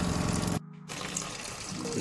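A semi-automatic washing machine drains its water in a steady, rushing gush close by; the flow cuts out for a moment, then surges back.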